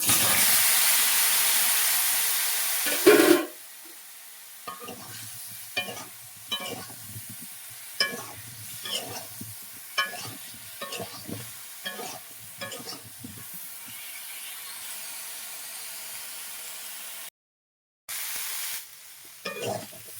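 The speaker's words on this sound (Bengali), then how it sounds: "ওই তেলে আমি দিয়ে দেবো একটু লবণ, হলুদের গুঁড়ো, ফুলকপিটা ভেজে নেব।" Cauliflower frying in oil with salt and turmeric opens with a loud, steady sizzle, then drops to a softer hiss broken by repeated scraping and stirring strokes against the pan; no talking.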